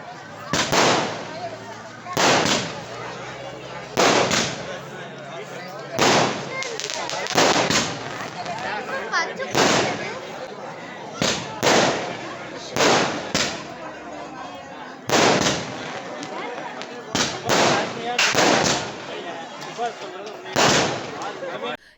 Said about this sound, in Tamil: நிறைய பட்டாசெல்லாம் வெடிச்சிருக்காங்க